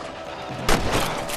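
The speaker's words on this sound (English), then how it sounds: "Nice shooting! You got one!" A single sharp rifle shot is fired at rabbits in the western video game Red Dead Redemption. It cracks out loud and close, then a short booming tail fades into the background ambience.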